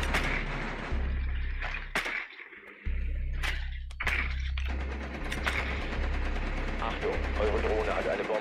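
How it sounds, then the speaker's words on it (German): Bursts of rapid gunshots from the basement in the video game Rainbow Six crack through the scene, with sharp repeated reports and brief pauses, while a voice talks underneath. "die Schüsse kommen aus dem Keller"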